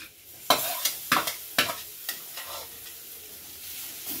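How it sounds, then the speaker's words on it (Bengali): Mashed potato being stirred with spices using a spatula for fish chop filling: a quick series of six or so scraping strokes against the pan, then quieter softer movements, no voices. "খুন্তির সাহায্যে আলুটা ভালো করে মশলার সঙ্গে মিশিয়ে নিয়েছি"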